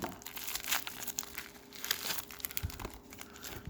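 Scissors cut open the crinkly plastic packaging around a slabbed coin, a close, quiet run of crackling and crumpling with small snips and rustles and no speech.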